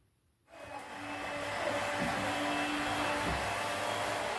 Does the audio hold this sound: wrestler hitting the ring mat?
no